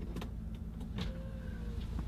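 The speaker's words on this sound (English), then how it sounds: "you can even electronically open those back window glasses there in the third row" A power rear third-row window on a Lincoln Navigator motors open with a soft steady electric whir and small clicks, close and quiet inside the cabin.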